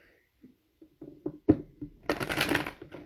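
Soft shuffling and tapping of tarot cards, a few light taps followed by a longer burst of riffling, close and fairly quiet.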